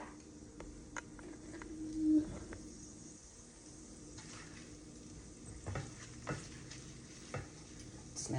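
Garlic sizzles in hot olive oil in a pan, a soft steady crackle with a few faint stirring knocks and clicks scattered across it.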